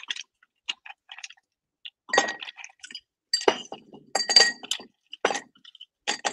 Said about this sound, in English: I'm going to add maybe like half glass of ice.